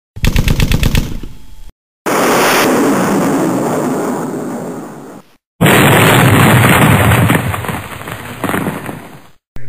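Two fire-and-forget radar-seeking missiles launch and hit with an explosion: a brief burst of rapid pulsing, then two long, loud roaring blasts separated by short silences.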